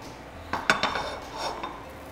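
A pan holding rabbit pieces is jolted quickly over a high flame, giving a few sharp metallic knocks and scrapes close by, then a softer rattle, with no talk.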